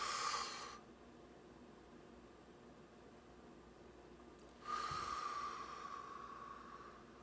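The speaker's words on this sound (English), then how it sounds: "Breathe in, breathe out." Slow, deep breaths through the nose and mouth, heard close and soft: a hissing exhale at the start, a long silent pause, then another airy breath.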